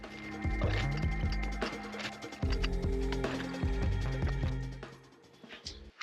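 A ratchet strap is cranked tight on a truck's rear suspension, giving rapid mechanical clicks in uneven bursts at close range.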